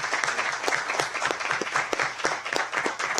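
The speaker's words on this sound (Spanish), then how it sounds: "Un fuerte aplauso para" Audience at a geopolitics forum in Costa Rica's Legislative Assembly applauding the speakers, a steady wash of many hands clapping with sharper individual claps standing out throughout.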